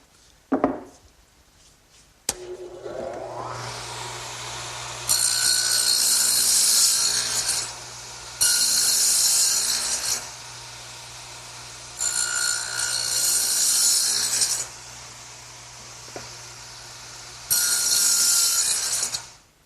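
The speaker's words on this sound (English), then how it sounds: "while I have the dado head set up in the radial arm, I want to make this end piece" A radial arm saw fitted with a dado head cuts a rabbet joint in wood, with three or four loud, harsh bursts of cutting, each a few seconds long, separated by the quieter hum of the running motor.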